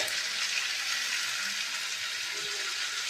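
Water pours steadily into a cooking pot for a jackfruit seed aviyal, giving a constant bright hissing rush with no pauses and no talk.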